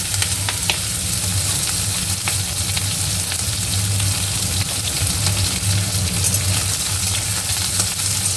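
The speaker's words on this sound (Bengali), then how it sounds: "কালো জিরে ফোড়ন দিয়ে এই যে কুমড়োটা কেটে রেখেছিলাম এটা দিয়ে দিলাম" Pumpkin pieces fry in hot oil with black cumin seeds, a loud, steady, close sizzle with no break and no speech, broken only by occasional crackles.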